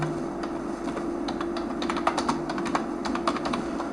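Rapid, uneven clicking of keys on a computer keyboard as a candidate's name is typed into an online JEE Main 2025 application form, close and steady for several seconds with no talking.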